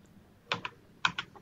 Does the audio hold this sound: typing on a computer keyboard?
yes